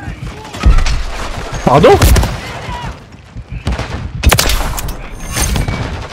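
Heavy gunfire from a KATT AMR sniper rifle in a video game, with loud booming shots around two and four seconds in, surrounded by game noise while a person talks.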